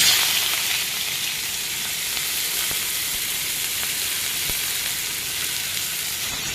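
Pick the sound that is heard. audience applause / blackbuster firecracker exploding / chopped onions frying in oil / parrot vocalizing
chopped onions frying in oil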